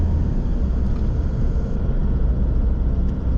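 A truck rumbles steadily across one of four roughly century-old bridges on a convict-built road near Isla Gorge, with heavy low engine and tyre drone filling the cab and no talking.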